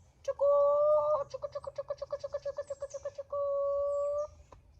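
A chicken calls with long sustained tones broken by a quick run of about fifteen rhythmic pulses, close and clear against a quiet background.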